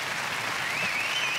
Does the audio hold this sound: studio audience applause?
yes